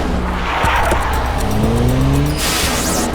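A car speeds off with its tires squealing, the loud screech sweeping and wavering over a steady roaring engine for about three seconds, with no voices.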